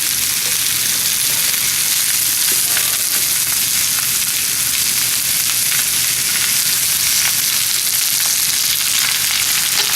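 Loud, constant sizzle of summer vegetables such as zucchini and patty pan squash frying in olive oil in a single pan, with faint stirring scrapes and no talking.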